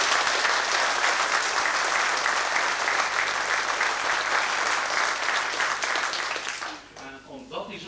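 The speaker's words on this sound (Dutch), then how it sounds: "geef hem een applaus" A hall audience in Gulpen applauds an honoured member of the Groenendaal sports club, standing for a long, dense ovation that holds steady at full volume and then thins out near the end.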